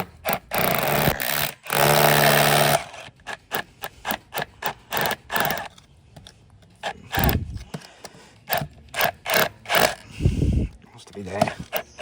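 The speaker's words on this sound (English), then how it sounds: "You use a 6mm bit. Carefully drill these holes." A 6mm bit drills holes into brick on the edge of a wall, heard as a loud sustained grinding burst followed by many short rhythmic drill pulses, close up, with someone speaking at times between them.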